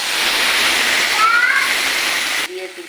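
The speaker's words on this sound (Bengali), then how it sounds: "ম্যাগিটা ভাজা হয়ে গেলে একটু জল দেবো সামান্য" Water poured into a hot pan of frying Maggi noodles, a loud rushing hiss and splash lasting a couple of seconds before cutting off abruptly, with a brief voice near the end.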